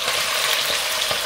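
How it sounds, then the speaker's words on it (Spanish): Chicken pieces sizzling in hot oil in a pan with toasted garlic for garlic chicken, a steady loud crackling fry with faint stirring, no talk. "Le añadimos el pollo ahí para que se vaya integrando todo"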